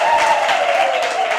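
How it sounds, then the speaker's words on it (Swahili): Church congregation breaks into sustained applause and cheering, a dense continuous wash of clapping and voices filling a large room at steady loudness throughout. "Chapieni shangwe na vigelegele na makofi ya kutosha Mary Michael."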